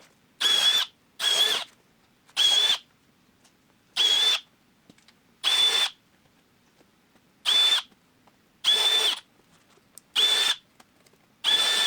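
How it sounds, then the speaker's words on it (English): A power drill with a larger bit enlarges the mounting holes for a Rokblokz fender extension on a 2023 Speed UTV El Jefe. About nine short, loud bursts of whining drilling are split by silent pauses. "Now that we've got all of our mounting holes drilled and expanded to the size needed"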